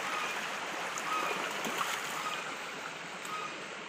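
Creek water flowing in a rural stream, heard as a steady, even rushing wash that stays close and fairly quiet throughout.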